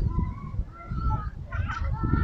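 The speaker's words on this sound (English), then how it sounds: "here we've got some geese" Geese at a boating lake in Poole Park, Dorset give a few close, short honks among low background rumble and faint voices.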